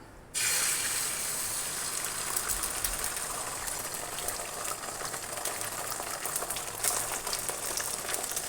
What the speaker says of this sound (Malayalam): ഓയിൽ ചൂടായി വന്നിട്ടുണ്ട്. അതിലേക്ക് നമുക്ക് മുട്ട ചേർത്ത് കൊടുക്കാം.